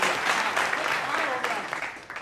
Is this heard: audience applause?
yes